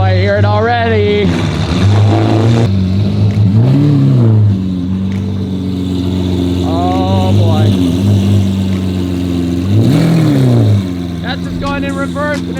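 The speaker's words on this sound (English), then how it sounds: "there's an Aventador outside with an exhaust that sounds so ridiculous, the world might end" Deep, loud engine rumble with rising and falling revs, a Lamborghini Aventador's loud exhaust roaring nearby while people talk excitedly over it.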